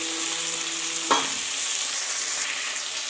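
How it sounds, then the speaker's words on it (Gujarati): Spice mix drops into a hot pan with a soft thud, followed by a steady sizzle and light stirring, close and moderately quiet. "નાખ્યા પછી જે મસાલો આપણે તૈયાર કરીશું તે મસાલો નાખી દઈશું."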